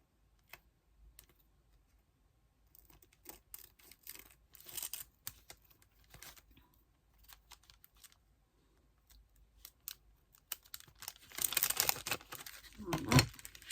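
Scissors snip through scrapbooking paper card in faint, crisp clicks and rustles, sparse at first and then a denser burst of cutting near the end.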